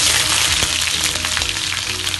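Onions fry in hot oil with cumin and chili for a spicy chicken gravy, giving a dense, steady, close sizzle that stays loud throughout with no pauses and no voices.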